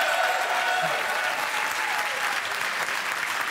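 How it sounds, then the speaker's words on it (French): Steady audience applause at a carnival quiz evening, dense and continuous, fairly loud and close, with no talk over it. "On les applaudit encore."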